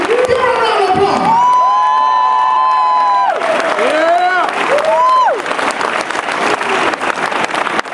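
Loud crowd applause with cheering and whoops as Paul Wright of San Antonio is welcomed, strong tonal shouts and a sustained voice riding over dense clapping throughout.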